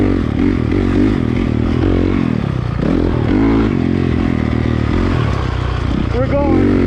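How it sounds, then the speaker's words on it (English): A dirt bike engine drones loudly and close, its pitch rising and falling as the rider speeds up, with clattering and scraping from rough ground and someone talking over the noise. "the sound of my bike"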